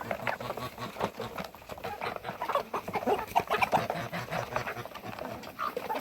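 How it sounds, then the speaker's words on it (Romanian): Hens clucking in a backyard poultry run, a busy flock of overlapping calls and short clucks with some rustling and patter, fairly close and continuous, no talking. "Haideți să mergem la găini să vedeți cum le folosim."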